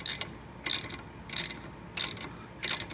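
A three-jaw puller is ratcheted on a Dodge 5.9L timing sprocket, giving five short bursts of metallic clicking at a steady rhythm, close and fairly loud, with quiet gaps between the strokes.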